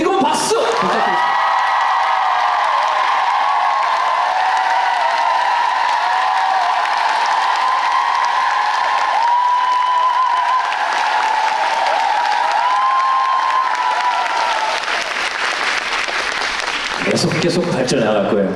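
Concert audience applauding and cheering for a band in Busan, a loud sustained wall of clapping with whoops and shouts across the hall, fading slightly near the end.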